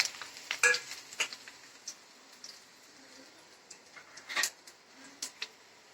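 Dried red chillies frying over low heat in a pan with fenugreek, faint soft sizzle with scattered clicks and scrapes of a wooden stirring paddle, quiet and intermittent.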